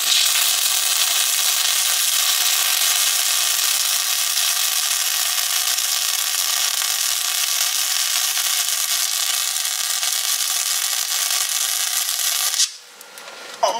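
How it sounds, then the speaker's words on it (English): Flux-core welding with no shielding gas, making rough, sloppy beads: a steady, dense crackling hiss runs close and loud for about twelve seconds, then cuts off abruptly. "I am welding with flux core. I'm using no gas right now, so it's a little sloppy."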